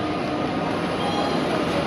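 Steady rumble of trains at a German railway station, a continuous broadband hum of rail traffic with no distinct events, moderately loud and without talk.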